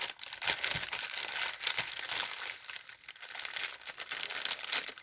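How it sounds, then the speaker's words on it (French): Paper packaging is crinkled and torn during a diamond painting unboxing, giving soft, fairly faint crumpling and ripping noises in irregular bursts over about five seconds. "déchire le papier"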